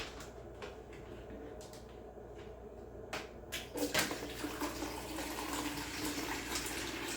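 Water drains from a countertop ice machine after a vinegar cleaning rinse, a soft steady trickle and splash that grows louder and busier partway through, with a few sharp knocks and clatters of the machine being handled.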